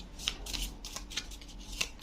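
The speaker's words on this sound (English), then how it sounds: "They're also very complicated to shuffle." Tarot cards riffled and flicked in a few short, crisp bursts, close by and fairly quiet, with brief pauses between shuffles.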